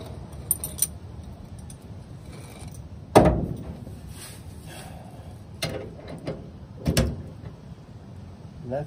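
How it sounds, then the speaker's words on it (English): Wrench loosening bolts on a 1957 Chevy 3100 truck, with a sharp metallic ratcheting clack near the start followed by a few softer clicks and knocks spread over quiet garage ambience. "two bolts out, two more to go"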